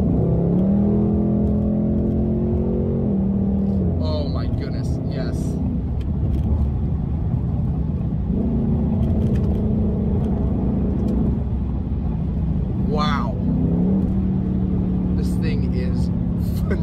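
A Ford Mustang Mach-E GT drives fast on a bumpy highway, a steady loud rumble of road and wind noise with a rising and falling electric whine, while a person talks over it.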